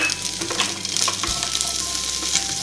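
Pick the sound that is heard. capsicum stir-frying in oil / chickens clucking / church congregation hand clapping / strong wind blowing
capsicum stir-frying in oil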